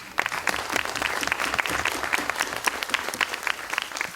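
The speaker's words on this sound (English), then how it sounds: "perhaps we could give them a round of applause." An audience claps for a conference panel in a meeting room, sparse and scattered hand claps forming a moderate, uneven patter that carries on steadily without speech.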